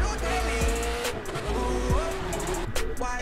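Ferrari driving in The Crew 2 racing game, a steady loud engine drone with rising and falling revs and gear shifts, continuous up close throughout, with a voice talking over it at times.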